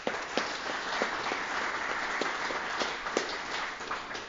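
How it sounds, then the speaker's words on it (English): An audience at a tribal self-governance meeting claps for a team, a continuous, even patter of many hands with a few sharper individual claps standing out, steady and unaccompanied by speech. "can we give them a round of applause?"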